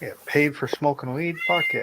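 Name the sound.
cat meowing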